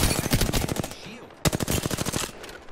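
Rapid automatic gunfire in the video game Apex Legends, two dense bursts of rattling shots split by a brief pause, loud and close.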